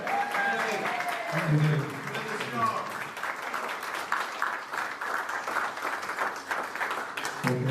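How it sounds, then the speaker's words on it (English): A forum audience in Derry, Ireland, gives a round of applause, broad and steady clapping filling most of the stretch after someone briefly speaks at the start. "Shall we give a big round of applause for Colin McKenna here?"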